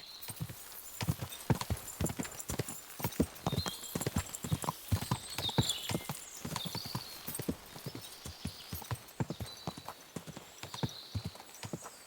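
Horse hooves clip-clop steadily along a woodland path in Kingdom Come: Deliverance II, a brisk continuous rhythm of close, crisp hoofbeats throughout.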